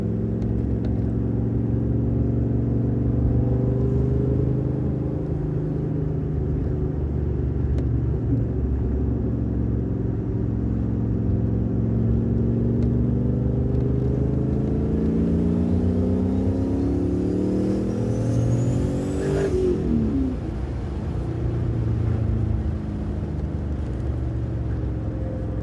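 A turbocharged IROC pulls hard through a boost run, its engine note rising steadily in a loud, continuous acceleration, then near the end a sharp swooping whoosh as the wastegate seems to open before the revs fall away.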